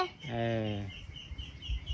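A single drawn-out squawking cluck from a chicken, fairly close, followed by soft rustling and faint background noise.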